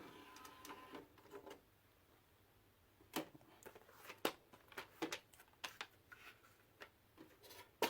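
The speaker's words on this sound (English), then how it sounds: "let's just eject the disc." A DVD player in a Toshiba VCR/DVD combo unit ejecting a disc, heard as scattered close mechanical clicks and ticks over a faint hum, quiet and alone with no talking.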